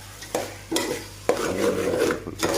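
A utensil stirs fish and seeds frying in a pan, with a steady close sizzle broken by a few sharp scraping strokes against the metal.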